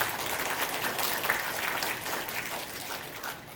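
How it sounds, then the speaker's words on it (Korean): Steady applause from an audience at a Korean-language course graduation ceremony, a dense even patter of many hands held at moderate level throughout with no voices over it. "이분들을 위해서도 박수 한번 부탁드리겠습니다"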